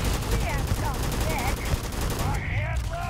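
Dense rapid gunfire from a weapon with noticeable recoil in the sci-fi game Starfield, a continuous rattling fusillade of close shots with chirping effects layered over it, steady and loud throughout.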